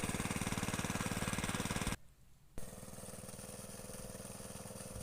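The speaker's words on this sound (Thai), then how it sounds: "ก็ทำการสูบน้ำนะครับ สูบน้ำจากคลองนะครับ" An engine-driven water pump draws water from a canal to fill a freshwater prawn pond, its engine chugging in a fast even rhythm, briefly dropping out, then resuming slightly quieter, loud and close with no talk.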